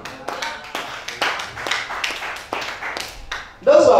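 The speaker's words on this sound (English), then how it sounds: "Those who have clapped hands, they have understood." Church congregation clapping during a sermon, a series of separate, sharp claps at an uneven rhythm, close and fairly loud, with a voice breaking in at the end.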